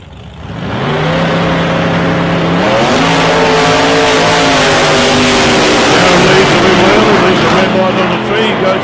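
Drag racing cars launching at South Coast Raceway during 660 qualifying, a loud, sustained engine roar with rising pitch as they accelerate, and a commentator's voice over the top.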